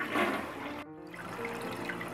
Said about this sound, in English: last test that we need to do is flush it and check for any water around the base of the toilet